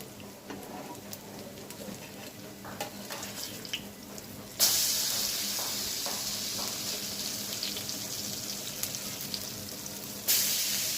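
Oil sizzles in a pan while frying, a steady broadband hiss that swells abruptly partway through as more goes in, then surges again near the end, with faint clinks scattered underneath.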